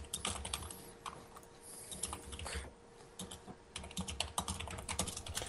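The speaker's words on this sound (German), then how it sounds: "Man hört einfach, dass er noch da ist und tippt" Typing on a computer keyboard, heard as a steady run of quiet, irregular key clicks with short pauses, faint and close against low background noise.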